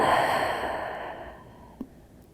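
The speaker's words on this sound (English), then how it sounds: "Take a deep inhale, feel your belly ground into the earth. Open mouth, exhale." During yoga breathing practice, a long open-mouth exhale comes out as one soft, close breathy sigh that fades gradually, followed by a brief faint click.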